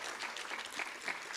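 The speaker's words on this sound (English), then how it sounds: "another round of applause" Quiet applause from a conference audience, a soft even wash of many hands, distant and brief.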